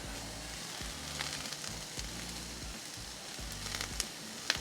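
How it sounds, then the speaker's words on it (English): Peppers and onions fry on a Pit Boss griddle with a steady, close sizzle and crackle, joined by a low pulsing hum underneath and a few sharp pops near the end; nobody speaks. "We're gonna get the peppers and onions pretty much all the way done first"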